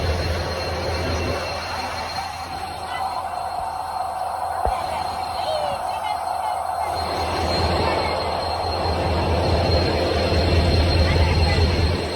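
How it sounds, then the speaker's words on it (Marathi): A train rumbles into a crowded station nearby, wheels grinding and squealing on the rails, its steady roar swelling toward the end amid station hubbub. "ट्रेन येते"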